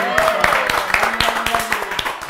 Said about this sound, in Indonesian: Harusnya tepuk tangannya sekarang.